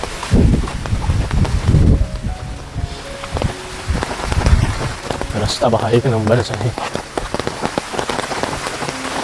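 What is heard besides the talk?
heavy rain falling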